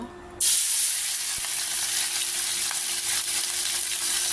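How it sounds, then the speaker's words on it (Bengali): Small tengra fish frying in a wok of hot oil, a loud steady sizzle that bursts in after a short quiet start and keeps crackling without a break. "এখন আমি কিছু ছোট ছোট ট্যাংরা মাছ ভাজা করব"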